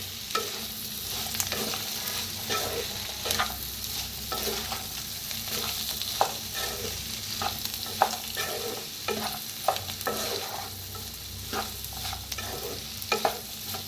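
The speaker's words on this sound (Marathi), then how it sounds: "आता मिक्स करूया." Mixed-dal dosa batter with a little sugar and chopped coriander is stirred in a bowl, making a wet, squelching churn broken by repeated spoon taps and clinks close by, with no talking.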